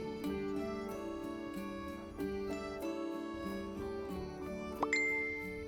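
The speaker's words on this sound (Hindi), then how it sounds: "तभी उसके फोन में एक नोटिफिकेशन आया" Bright chiming tones ring out in a short melodic pattern, with soft repeated tinkling notes and a sharper high ding near the end, like a mobile phone notification alert in a quiet room.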